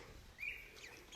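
Pheasant chicks on a farm give faint, high-pitched chirps, one or two brief peeps over a quiet background.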